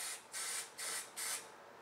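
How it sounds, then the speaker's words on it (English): An Arid Extra Dry aerosol antiperspirant deodorant can sprays in short hissing bursts, about four close, loud puffs in quick rhythm with brief pauses between, and no talking. "I choose to use a spray. This is happens to be arid, extra dry."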